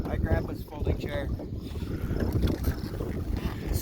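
Strong wind buffets the microphone outdoors at a fishing spot in the Scablands of Eastern Washington, a dense continuous low rumble with gusty swells throughout.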